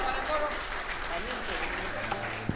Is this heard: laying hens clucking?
no